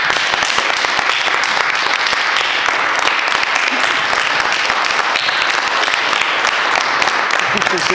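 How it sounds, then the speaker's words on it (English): A gallery crowd applauds exhibiting artists at Den Frie, continuous energetic clapping holding steady from start to finish, close and full, with occasional voices mixed in. "let's give them a round of applause"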